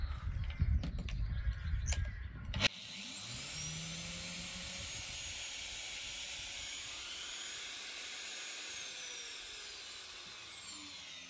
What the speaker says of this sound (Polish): Szlifierka kątowa, czas start.